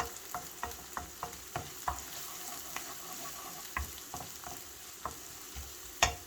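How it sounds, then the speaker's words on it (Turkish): Onions sizzle softly in hot oil for mushroom soup while a utensil scrapes and stirs the pan in a steady rhythm of clicks. "Ve soğanımı yağımla birlikte kavuruyorum."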